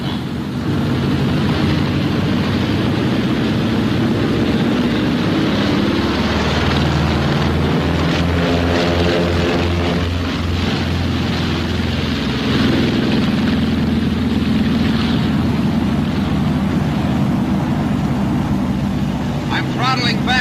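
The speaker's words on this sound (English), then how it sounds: "you have enough speed, the ship will take off by itself" B-26 bomber piston engines roar steadily through a takeoff run at about 130 miles per hour, a loud continuous drone with a low propeller throb that shifts pitch midway and persists throughout.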